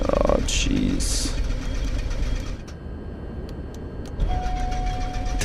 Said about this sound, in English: hopefully we can get this engine started